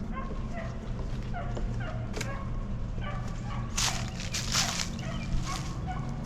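Dogs bark intermittently in the distance, a few scattered sharp yelps over a low outdoor rumble.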